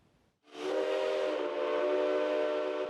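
The locomotive of the Hamasen heritage tourist train on Kaohsiung's revived harbour line gives one loud, sustained tonal whistle blast. It starts abruptly after a short quiet moment and holds steady to the end.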